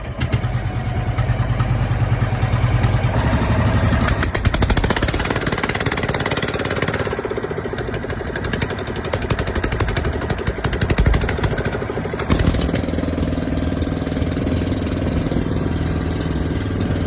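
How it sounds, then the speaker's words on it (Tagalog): Boat engine running steadily, a loud, close, rough mechanical drone with rattling pulses that shift in pitch and intensity partway through, continuing without pause and with no talking. "Ayan ang ito na makina natin."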